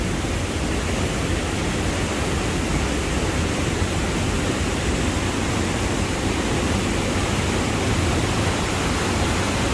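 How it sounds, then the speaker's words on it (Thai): Water rushes through an opened canal lock sluice gate in a loud, unbroken roar that holds steady throughout, close and dense. "ไม่ใช่น้ำตกนะคะ เป็นประตูระบายน้ำนะคะ"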